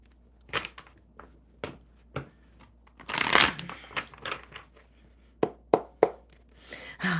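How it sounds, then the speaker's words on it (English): Tarot cards are shuffled close to the microphone in a series of quick riffles and soft slaps, with a longer rustling burst in the middle and crisp snaps toward the end, heard without talking. "One more good shuffle."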